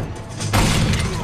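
A zombie pounds on a door in the Resident Evil 2 Remake video game: a heavy thudding impact hits midway, followed by a sustained loud rattle and rumble of the door.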